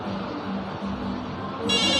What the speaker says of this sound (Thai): เดี๋ยวผมจะลองโทรดูนะฮะโทรเข้าโทรศัพท์บ้านนะครับ